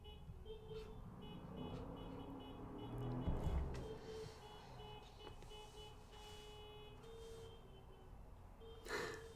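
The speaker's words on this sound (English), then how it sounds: "Can you hear the honking from outside?" Faint, distant car horns toot a few times outside over a low traffic hum, with one louder honk near the end.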